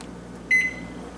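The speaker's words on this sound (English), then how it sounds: "Now let's get the eggs and the spinach in the microwave." A microwave oven heating scrambled eggs with spinach gives a short, clear electronic beep over a low steady hum in a kitchen.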